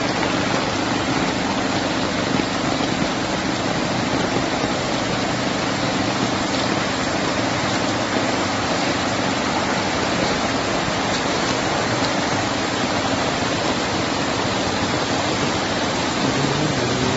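Heavy monsoon rain pours steadily in Tirunelveli as floodwater floods residential streets, a dense, unbroken roaring wash with no pauses, close and loud throughout.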